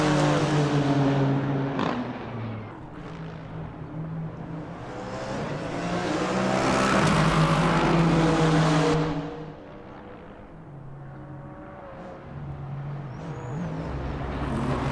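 GT3 race cars cross the finish line at Motegi in a racing game, their engines droning and revving through shifting gears as several cars pass in turn, loud and close, swelling midway and then settling.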